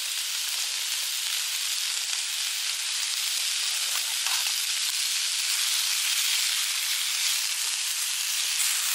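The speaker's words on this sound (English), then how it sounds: "Let's fry that off" Food sizzling in a pan over a camp stove at a wild campsite in Scotland, a loud, dense and continuous hiss that holds steady throughout with no voices.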